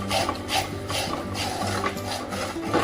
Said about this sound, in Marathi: ह्याला सतत असं ढवळत राहायचंय